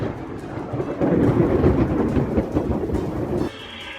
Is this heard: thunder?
yes